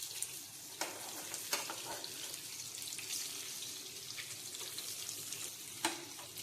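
Tilapia fish frying in hot oil in a pan give a steady, quiet sizzle and crackle throughout, broken by a few sharp spatters and pops, with no talking.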